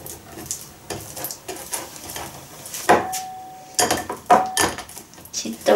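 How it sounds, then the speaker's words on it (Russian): Cooked beans for anko are rubbed through a fine metal sieve, giving close, irregular scraping and clinking of utensil against mesh in short strokes, with a few sharper metallic knocks. "Надо протереть через мелкое сито, чтобы масса освободилась от шкурок."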